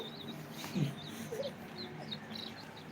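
Faint high peeping calls of chicks repeat intermittently over a quiet background, with a low cluck or two nearby.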